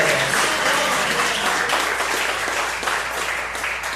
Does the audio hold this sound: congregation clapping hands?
yes